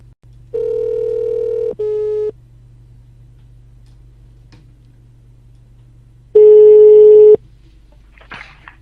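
A phone ringback tone sounds on an outgoing call from a radio studio, two steady buzzing rings separated by a long pause, loud and clear on a quiet line.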